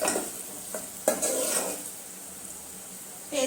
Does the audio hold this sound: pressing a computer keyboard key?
no